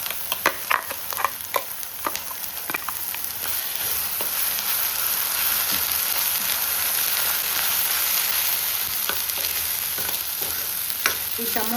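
Ground tomato paste frying in a pan for chole curry, a steady bright sizzle throughout with a few scraping stirs of a spoon near the start, close and moderately loud, no talking.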